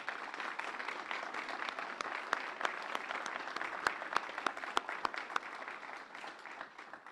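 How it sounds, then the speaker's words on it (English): Moderately distant applause from an audience at a state healthcare bill signing, steady clapping for legislators with a few sharper nearby claps standing out. "So please give all of them a round of applause."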